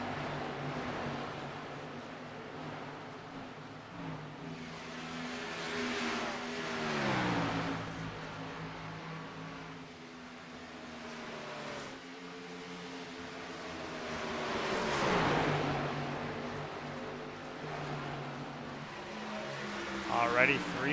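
Race cars lapping Chicagoland Speedway in a sim racing league event, engines swelling and fading as the pack passes again and again, kept low under continuous commentary.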